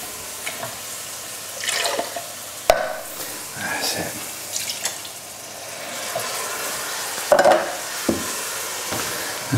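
Tomato sauce with cod and chorizo being stirred in a pan, soft scraping strokes and gentle sizzling close by, with a couple of sharp knocks of the utensil against the pan.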